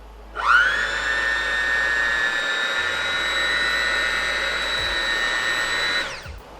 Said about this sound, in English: I actually went out and bought a hand mixer or an electric beater.